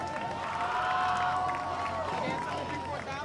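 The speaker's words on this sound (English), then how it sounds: "please give another round of applause to the Overbrook Marching Band" A crowd applauds and cheers for the Overbrook Marching Band, a steady wash of clapping and shouts heard moderately far off under a tonal drone.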